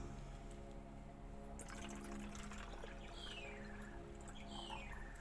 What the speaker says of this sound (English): And then I'm going to fill the rest of it up with water.